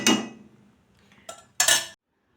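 A few metal spoon scrapes and clinks against a pan or plate as roasted semolina is spooned onto a plate, short and close, with quiet pauses between them.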